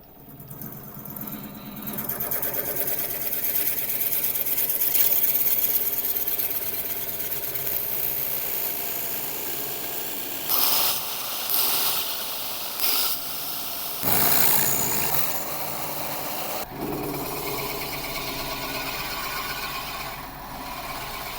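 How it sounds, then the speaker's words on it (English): Forstner bit boring a path into holm oak on a wood lathe, a steady loud mechanical whir with machine hum, broken by several short bursts of harsher cutting noise before settling back to a smoother drone. "I'm going to have a go with a Forstner bit and see if we've got enough room here"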